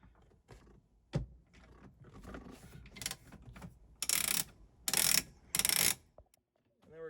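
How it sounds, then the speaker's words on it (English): A T45 Torx ratchet clicks in short bursts as it backs out the bolt holding a seatbelt receptacle to a Mercedes-Benz Sprinter VS30 seat, with quick rattling strokes close to the microphone and small handling noises between them. "remove the bolt holding the seatbelt receptacle to the seat with our"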